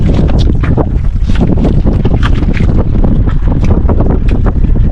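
Strong wind on a fishing boat at sea buffets the microphone in a loud, continuous roar with gusty rumbling throughout.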